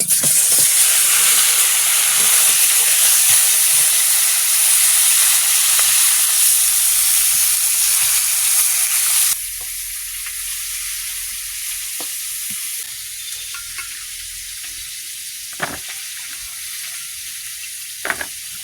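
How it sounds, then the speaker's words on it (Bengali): Snakehead fish frying in a very hot karahi, a loud hissing sizzle that drops suddenly to a quieter crackle with occasional sharp pops, and no talking over it. "কড়া গরম হয়ে গেছে, মাছগুলো দিয়ে দাও।"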